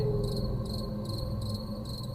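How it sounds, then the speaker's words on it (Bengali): Steady pulsing chirps of crickets fill the air, a dense continuous insect chorus with rhythmic bursts repeating about every half second. "চারিদিকে ঝিঝি পোকার ডাক"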